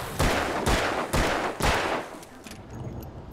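Four loud, close gunshots fire in quick succession at an enemy in Alan Wake, each a sharp booming crack about half a second apart, followed by quieter rattling and mechanical clicks.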